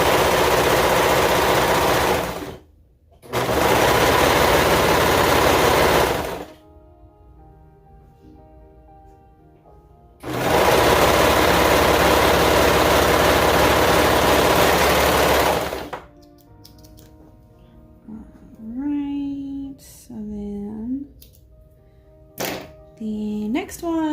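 Sewing machine stitching a T-shirt side seam, running in two long, loud, steady bursts separated by pauses, followed by quieter handling sounds.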